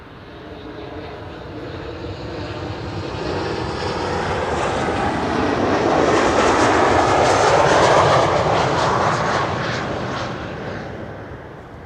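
A KLM airliner landing on Schiphol's Kaagbaan runway 06 passes overhead with a loud jet roar that swells to a peak midway and then fades, with no talking.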